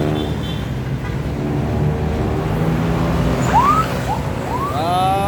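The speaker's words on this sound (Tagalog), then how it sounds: "medyo traffic sa kabila" Steady road traffic on a morning street, a continuous loud wash of passing cars and engines with a brief rising horn or siren-like tone near the end, no talking.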